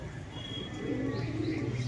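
Faint cooing and occasional chirps come from young pigeons near a pond, soft and somewhat distant against a low background hum.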